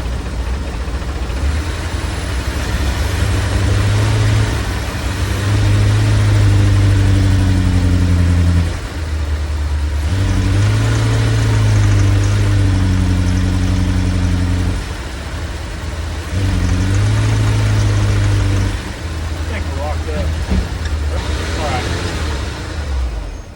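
A converted camper van engine running in drive, its loud drone rising in repeated revving surges separated by short dips, while a person talks intermittently over the engine.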